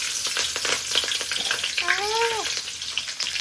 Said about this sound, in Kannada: ಸೊ ಗೈಸ್ ಇವಾಗ ಇದನ್ನ ಒಗ್ಗರಣೆ ಹಾಕೋಣ ಬನ್ನಿ